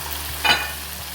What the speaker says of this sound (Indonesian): Kita aduk-aduk dulu